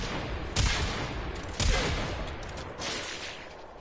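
Quartakk rifle firing in the video game Warframe: three loud, sharp bursts spaced about a second apart, each trailing into a noisy decay over a steady background wash.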